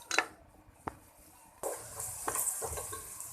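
Sliced onions dropped into hot golden oil for a flat bean curry, with a sudden sizzle and crackle of frying plus a few spoon stirs and utensil knocks, close and steady with no talking.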